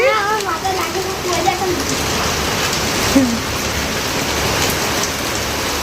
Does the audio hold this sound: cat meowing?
no